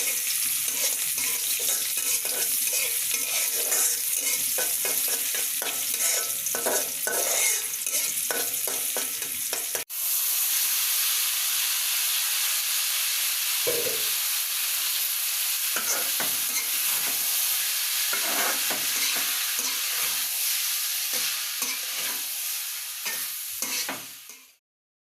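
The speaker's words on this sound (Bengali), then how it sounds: "তা আজকে সকালে নাস্তার জন্য চাউমিন রান্না করব।" Boiled chow mein noodles stir-fried in a hot pan, with a continuous loud sizzle and repeated scraping and tossing strokes close up, settling into quieter frying before ending abruptly.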